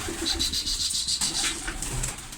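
Pigeons coo softly in low, throaty murmurs inside a pigeon coop, amid some rustling and background noise.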